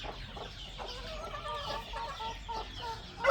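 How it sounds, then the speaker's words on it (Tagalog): Chickens cluck around a small farm hut, with several overlapping clucks and short calls close by, irregular and moderately loud over a quiet outdoor background. "Yan ang daming manok ko"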